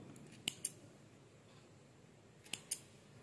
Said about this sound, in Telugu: సో ఇప్పుడు ఇది ఎక్స్ట్రా కట్ చేసేసుకుందాము